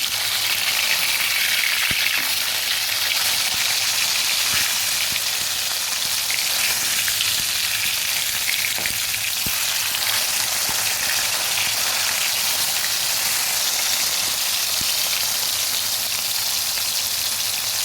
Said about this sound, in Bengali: এক দিক ভাজা হয়ে গেছে আর একটু উল্টে দিলাম